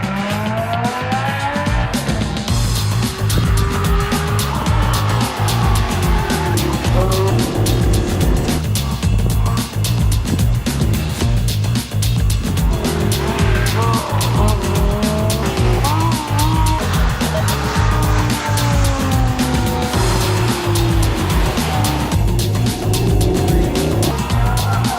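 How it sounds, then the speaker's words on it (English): A Lamborghini Gallardo Spider Performante with a V10 engine and all-wheel drive is driven hard on a race track, its loud engine howling steadily through gear changes while the tires squeal and skid in longer bursts. "Next up, it's the Lamborghini Gallardo Spider Performante, basically a roadster version of the hardcore Gallardo Superleggera."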